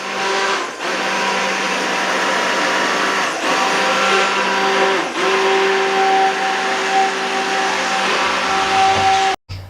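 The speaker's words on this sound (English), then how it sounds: "If you don't have an immersion blender, you can use a regular blender." An immersion blender puréeing lobster bisque, a steady high-pitched motor whir running continuously for several seconds, loud and close, with faint bumps and a brief cutoff at the end.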